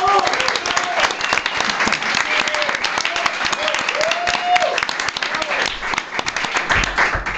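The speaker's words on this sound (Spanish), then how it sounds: "Un fuerte aplauso para recibir a Pepe Colubi." A studio audience on a Spanish talk show bursts into loud, sustained applause, dense clapping filling the room with a few whistles and cheers mixed in.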